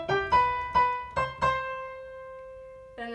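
A piano plays a theme with octaves in the right hand, a quick run of about five bright struck notes followed by a held tone and one more chord, close and clear without talking.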